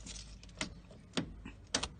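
Car keys jangle close by in a few short metallic bursts near a car whose battery was just charged, with faint background noise between the jingles.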